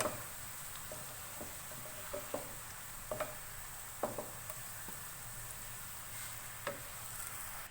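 Sliced onions frying in oil until lightly golden brown for a Pakistani chicken salan: a steady soft sizzle with faint scattered pops and occasional light stirring taps, quiet and close.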